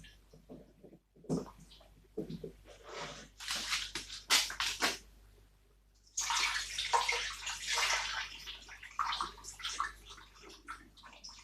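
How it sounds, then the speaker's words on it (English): Cocoyam being washed by hand in a basin of water, with repeated close splashing and sloshing in irregular bursts, broken by a brief pause midway. "now I'm going to wash my cocoyam"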